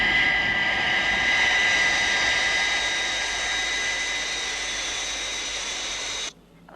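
Loud, sustained roar of Thunderbirds jet aircraft engines on reheat, a steady broadband rush with a high whine that holds evenly before cutting off abruptly near the end.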